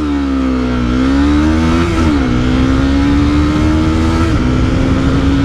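A ten-year-old Honda CBR 250R motorcycle pulls away from first gear with a loud, close, buzzing engine note that climbs in pitch, dipping briefly a few times as it shifts or eases off before climbing again.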